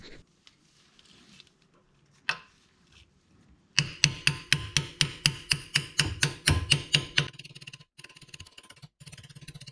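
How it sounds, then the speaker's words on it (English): A hammer strikes a socket about fourteen times in a steady rhythm to drive a Honda Civic shift linkage transmission seal, sharp ringing blows close by, with quieter tapping and handling before and after. "give it a few blows with the hammer onto the socket to drive it in."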